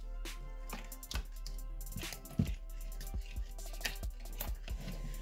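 Thick homemade slime stirred in a container, giving repeated soft wet squelches and taps in an uneven rhythm, close and fairly loud with no one speaking.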